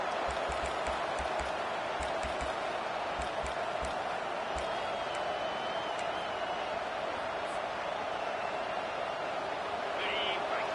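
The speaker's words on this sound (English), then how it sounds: "Listen to this crowd just shaking the girders of this place, trying to help their defense" A packed stadium crowd roars in the NCAA 25 college football video game, a dense, continuous wash of cheering noise with occasional thumps, under steady commentary talk.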